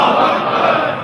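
A crowd at a birthday gathering for Bibi Syedah Fatimah Zahra at the Al-Khoei Center in New York shouts the Naara-e-Takbeer slogan in a dense, loud, brief roar of many voices.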